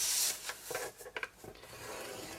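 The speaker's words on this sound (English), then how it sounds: "I'm going to score this on all four sides at 3 inches." A scoring tool drags along cardstock being creased on four sides for a lidded box base, giving a few soft, short rubbing strokes in a quiet room.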